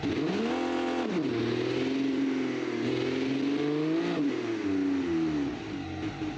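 A car engine in the BeamNG driving game, topping out around 5,000 rpm, revs continuously and loudly, its pitch climbing, dipping sharply near one second and again around four seconds, then rising steadily.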